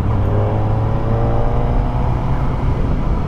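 Kawasaki Ninja ZX-4RR motorcycle, a 2025 model, riding with a steady, loud engine drone and low rumble throughout, no talk.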